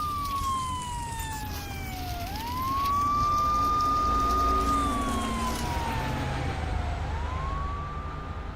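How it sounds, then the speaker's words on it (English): Police and ambulance sirens in the horror video game Dead Secret, a loud wailing tone that sweeps down and up in long cycles over a low rumbling background, with no talking. "here's the police coming, ambulance, whatever"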